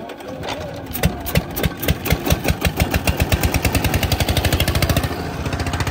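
A boat engine on the Brahmaputra river at Hossainpur, Kishoreganj, starts up with windy weather setting in, its rapid thumping pulses quickening into a steady close, loud chugging.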